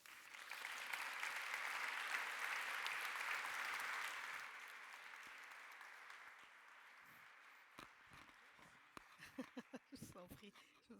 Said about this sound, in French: sous vos applaudissements, accueillez chaleureusement Dany Laferrière